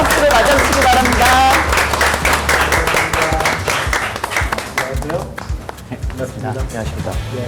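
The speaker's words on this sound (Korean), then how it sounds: "따뜻한 환영의 박수를 맞아주시기 바랍니다." An audience applauds as the prime minister enters a youth-arts debate forum, with loud clapping under music and voices that gradually thins and grows scattered.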